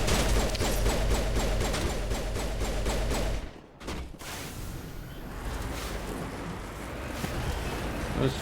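Rapid turret gunfire in Mass Effect, a dense continuous burst of shots that breaks off abruptly midway, followed by rumbling game ambience.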